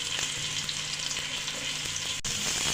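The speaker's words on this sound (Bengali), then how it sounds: "ভালোভাবে পেঁয়াজের সঙ্গে আমি ভেজে নেব" Onion sizzles in a pan with ginger and garlic paste for chicken bhuna khichdi, a steady close frying hiss with light stirring scrapes and no talk.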